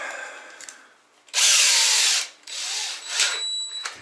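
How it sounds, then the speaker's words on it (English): A power drill whirs loudly for about a second while drilling a hole during shower door installation, then spins again in two shorter bursts, preceded by faint handling noise. "drill a hole right here"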